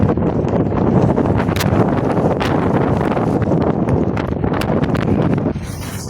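Strong sandstorm wind roars in a desert city, loud, constant and gusting right at the microphone for several seconds before easing slightly at the end.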